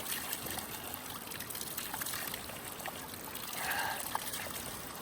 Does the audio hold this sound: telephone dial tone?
no